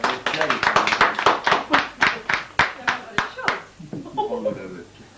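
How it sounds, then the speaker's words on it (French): A family at a 1984 gathering claps hands together in a steady, fairly quick rhythm of about a dozen sharp, close claps, which then fade into quiet chatter and light laughter. "On applaudit."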